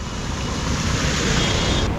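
Vehicles splash through floodwater covering a street, footpath and gutter line during monsoon flooding in Nalasopara, near Mumbai, giving a steady, loud rushing wash of water with some wind buffeting and no talk.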